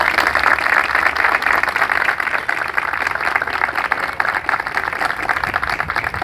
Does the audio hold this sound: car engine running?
no